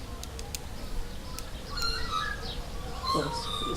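Birds sing in the countryside near Armidale, Australia: scattered chirps and short whistled calls, some near and some distant, over a soft steady outdoor hiss with no other interruptions.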